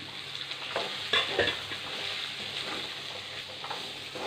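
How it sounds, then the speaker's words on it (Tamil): Steady oil sizzle of broad beans frying in a pan, with a couple of soft clinks from stirring, close and continuous. "நல்லா அவரைக்காய் வதங்கிடுச்சு."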